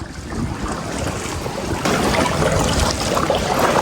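A small boat pushes through sea waves on a tour near James Bond Island in Phuket, Thailand, giving a loud, steady rush of water and wind that swells slightly midway.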